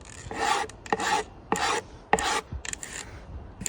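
Hand planer shaving a worktop edge at an angle, heard as five or six loud rasping passes in an irregular rhythm, each lasting about a third to half a second, close up with no talking.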